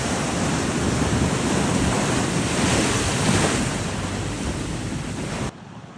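Sea waves rolling in at Kuakata beach in Bangladesh, a loud continuous roar of surf with heavy wind buffeting the microphone that drops away abruptly near the end.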